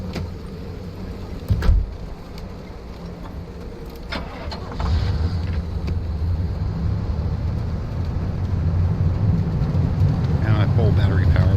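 Rain pours steadily in the video game Pacific Drive, with a heavy thunder rumble near the start and a vehicle engine humming and swelling beneath the downpour; a voice speaks briefly over it.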